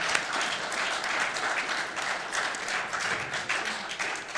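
Audience applause at a GenCon 2019 live podcast show, a steady dense wash of many hands clapping at once, sustained and even throughout with no pauses.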